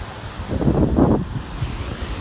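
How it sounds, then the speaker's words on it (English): Huge waves crash in one surging roar that rises and fades, with steady wind buffeting the microphone throughout. "Look at these huge waves."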